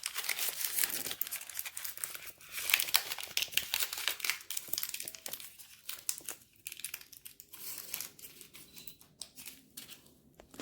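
Wax or parchment paper crinkles and rustles in close, busy bursts as pulled taffy candy is wrapped and its ends twisted, the handling easing off toward the end.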